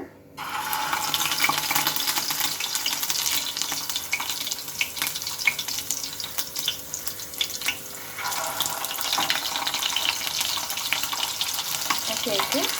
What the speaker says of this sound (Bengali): তেলটা কিন্তু বেশ গরম হয়ে গিয়েছে এবার আমি এই পটলের পুর ভরা পটলগুলো দিয়ে নেব